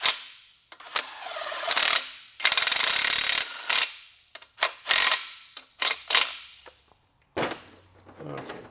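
Torque wrench ratchets on the main bearing bolts of a Toyota 22RE engine under reassembly, sharp clicking bursts repeated in short runs with pauses between, close up.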